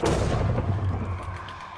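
Boomy cannon blast from a pufferfish cannon in a Minecraft-style game, a loud low thud at the start followed by a rumbling, crackling decay that lingers under the mix.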